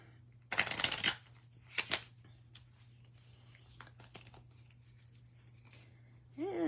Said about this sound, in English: So let's shuffle those in